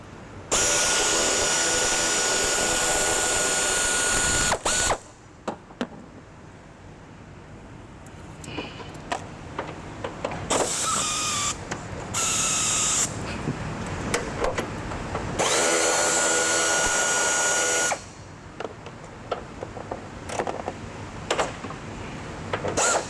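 A quarter-inch air ratchet fitted with a 12 millimeter socket runs in a collision repair shop, giving a loud buzzing whir in several bursts of a few seconds each, with quieter shop background in between.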